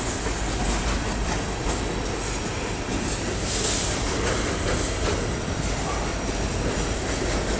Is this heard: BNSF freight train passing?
yes